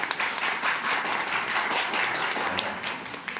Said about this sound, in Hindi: बहुत बहुत जोरदार तालियां एक बार कासिम जी के